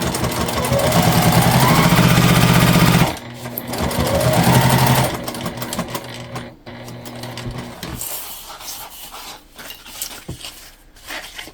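A sewing machine stitches the lining of a crossbody bag in loud, steady bursts, pausing briefly partway through, then fading to quieter handling noises.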